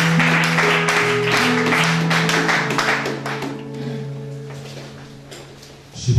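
A church congregation applauds loudly and steadily, with sustained keyboard notes ringing underneath as the clapping gradually thins and fades toward the end.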